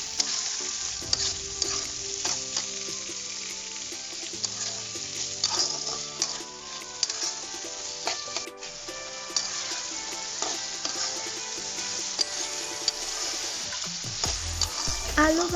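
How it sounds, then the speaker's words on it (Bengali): Cut potatoes frying in a pan with a pinch of salt, a steady sizzle running throughout under frequent clattering stirs of the spoon against the pan. "এরপর কেটে রাখা আলুগুলো দিয়ে আলুটা কিছুক্ষণ ভেজে নিব।"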